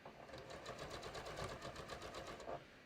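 A sewing machine runs in one continuous quiet burst, stitching a raglan sleeve top along a rib with a back tack, its rapid even needle rhythm steady for nearly three seconds before stopping.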